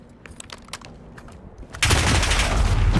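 Scattered faint shots, then a sudden dense burst of rapid gunfire that keeps going loud and continuous to the end, from automatic weapons in a Call of Duty: Modern Warfare multiplayer match.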